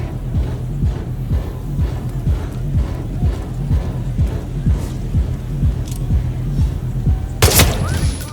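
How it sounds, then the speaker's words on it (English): Unsilenced pistol shots in Hitman 3, a steady run of sharp thumping reports in rapid rhythm over a low hum, with a bright shattering crash near the end. "When you fire an unsilenced shot, the guards will go and investigate the area where the sound came from"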